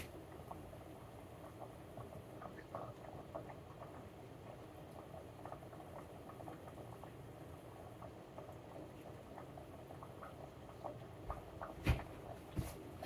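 Eggs boiling in a pan on an electric stove give a low, steady bubbling patter that stays faint and even throughout, with a few sharper clinks near the end.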